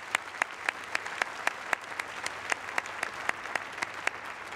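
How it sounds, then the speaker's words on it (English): Audience applause at a university presidential inauguration, a soft, steady patter of many hands from a distance, with sharper individual claps standing out at a regular rhythm. "Let's give them a round of applause."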